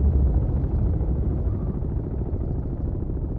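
Helicopter rotor drone in a naval combat video game set in a 1982 campaign off Narvik, a steady low rumbling throb held at even loudness throughout with no voices.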